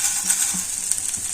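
Urad dal and ginger frying in a pan for ginger chutney, giving a steady close sizzle with a few light scraping stir sounds, no voices.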